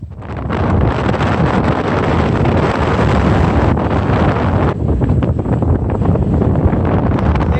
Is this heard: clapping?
no